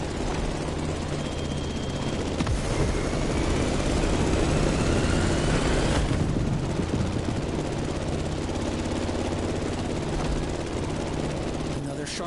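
Propeller plane engine droning steadily through a sharp banking turn in The Crew Motorfest, a continuous loud hum with a rising whine, while a voice talks over it.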